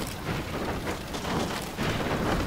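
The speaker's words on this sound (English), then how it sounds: "Now that's the hail hitting me." Hail pelting the player in the storm-chasing game Storm Chasers, a continuous loud hiss and patter of ice striking surfaces, swelling and easing in waves with no talking.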